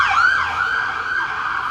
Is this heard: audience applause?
no